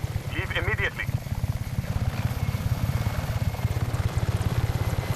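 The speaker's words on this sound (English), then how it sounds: "Choppers are inbound." Helicopters in the video game Just Cause 3 approach with a loud, rapid rotor chop pulsing throughout, while a voice briefly speaks over it near the start.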